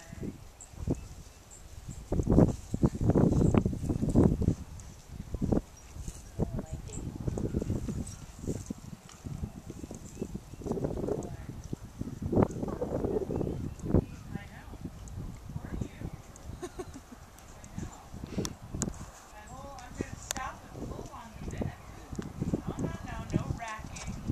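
A horse walks on long lines in a riding arena, its hooves clip-clopping in a steady rhythm at moderate distance while a trainer talks over it intermittently.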